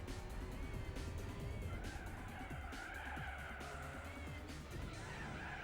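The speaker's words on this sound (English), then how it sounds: "Oh, don't wheel spin, please." Tires spin and squeal on a race car in Gran Turismo 4, a steady loud engine roar with skidding whine running throughout, with no pause or talk.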